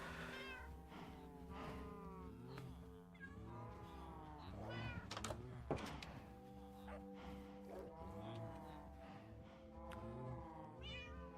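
Cats meow repeatedly in Minecraft, the calls overlapping in a steady cluster above a continuous game background, loud and close throughout.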